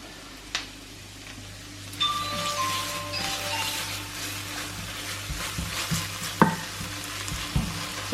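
Garlic softening gently in a pan for a surf and turf dish: a faint, steady sizzle with occasional stirring scrapes and light clinks of utensils, close but quiet, with no talk.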